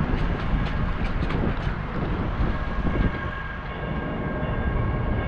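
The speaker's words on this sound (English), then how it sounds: "Can't tell which way the train's going" A train passes on a chilly outdoor day, a steady rumbling roar of rail cars mixed with wind buffeting the microphone, loud and continuous without talk.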